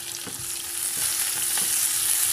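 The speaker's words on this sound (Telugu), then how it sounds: "ఉల్లిపాయ పచ్చిమిరపకాయలు వేసేయాలండి." Onion and green chilli frying in hot oil with seasoning seeds for upma, a steady close sizzle and crackle with a few soft stirring scrapes.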